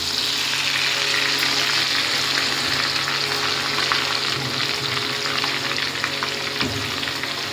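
Spices frying with ginger and cumin paste in a pan for a chicken kosha, a dense close sizzle that holds steady with faint stirring scrapes.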